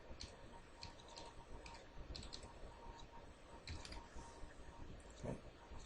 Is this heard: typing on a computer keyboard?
yes